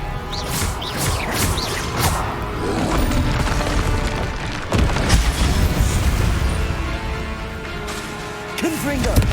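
Spell explosions from Bombarda and Confringo go off in Hogwarts Legacy, heavy booms and crashes erupting repeatedly over a dense, continuous battle din with whooshing effects and voices calling out throughout.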